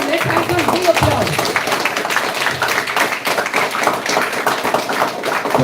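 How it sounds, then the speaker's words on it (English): Students in a school classroom clapping in a dense, uneven burst of applause that carries on steadily throughout, with voices and chatter mixed in beneath the clapping. "Come on, let's have some big applause."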